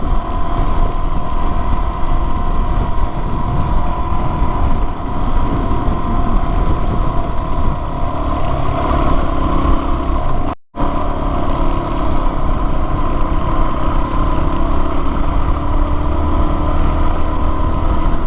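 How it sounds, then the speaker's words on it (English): Steady, loud wind buffeting on a Yamaha WR250R motorcycle ridden on a mountain county road on a windy day, a constant rushing roar with engine drone underneath and one brief dropout midway. "Bunch of wind. Actually got pretty windy today."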